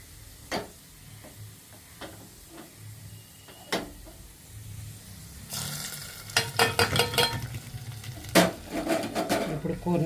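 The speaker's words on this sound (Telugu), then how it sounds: "ఇప్పుడు కూరని బాగా కలిపెట్టేసామంటే అతను బాగా కలిపెట్టేసామండి" Gongura and raw prawn curry being stirred in a pan, with scattered soft scrapes and clicks that build into a denser burst of clattering utensil strokes and light sizzling near the end.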